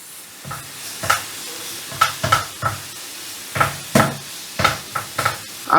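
Onions and green chillies fry in a pan under a soft sizzle, while a spoon stirs and scrapes in about a dozen distinct strokes, sharp and close.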